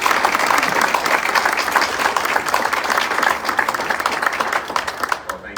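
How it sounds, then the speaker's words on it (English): Steady, full applause from an audience at an administrative suite dedication ceremony, sustained throughout and thinning slightly at the end. "give him a round of applause and we'll keep it going"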